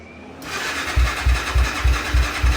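A Honda 400EX engine swapped into a Polaris RZR 170 and set on half choke cranks and catches, then runs in a rough, lumpy idle with regular low thumps about every third of a second, close and fairly loud.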